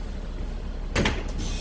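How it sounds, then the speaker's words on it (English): A bus door closing after a passenger boards a kneeled bus, heard as a short broadband whoosh and thump near the middle, with a steady low hum of the idling vehicle throughout. "Close the door."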